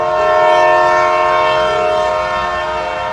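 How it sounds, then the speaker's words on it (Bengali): A train starts moving amid a loud, steady mechanical drone with sustained horn-like tonal layers, a constant heavy rumble filling the short stretch without any talk. "ট্রেন চলতে শুরু করে।"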